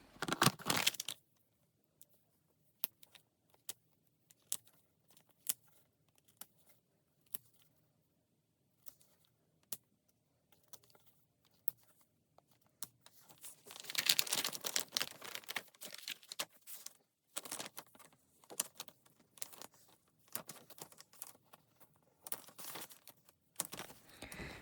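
Stitches are picked and pulled out of a knitted Christmas stocking, with sparse soft ticks and snaps giving way to denser bursts of tugging and yarn rustle, quiet and close.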